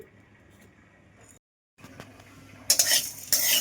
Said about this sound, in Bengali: মশলাটা আমি একটু ভেজে নেবো লাল লাল করে